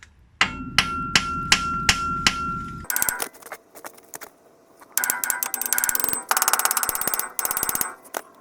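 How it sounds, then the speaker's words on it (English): Hammer blows on the ball joints of a 1974 Chevrolet front suspension: about five evenly spaced, ringing metallic strikes, then bursts of rapid, dense metallic rattling and clanking, fairly close and loud. "so I'm gonna try the hammer first of all"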